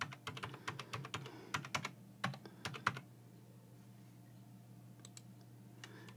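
Fingers tap out an IP address on a computer keyboard: a quick burst of crisp key clicks for about three seconds, then quiet, with a few faint taps near the end.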